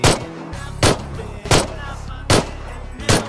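Five pistol shots in PlayerUnknown's Battlegrounds ring out at a steady, unhurried pace, each a sharp loud crack over a low rumbling background, with some voice underneath.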